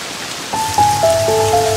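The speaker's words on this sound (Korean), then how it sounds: "예고도 없이 비가 내리던 날이었어요." Rain falls steadily as a loud, hissing wash of noise in a Samsung Card advertisement. Soft sustained musical tones rise over it partway through.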